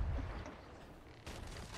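A ship's cannon fires in the Sea of Thieves video game, a low, muffled boom at the start followed by a second rumbling burst, both fairly faint and distant.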